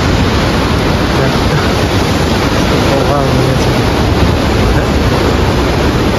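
A mountain river in the Langtang Valley rushes loudly and constantly, a broad roar of churning water with wind buffeting the microphone.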